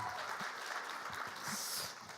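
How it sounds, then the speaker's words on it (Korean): An audience at a Korean volunteer Ignite presentation event claps for a student speaker, a dense, steady patter of applause that fades slightly at the close. "여러분 다시 한번 큰 박수 부탁드리겠습니다"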